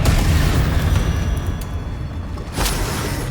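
Spell explosion from the Confringo fire curse in the video game Hogwarts Legacy, a loud, dense booming blast that rumbles continuously, with a sharp burst near the end and no talking over it.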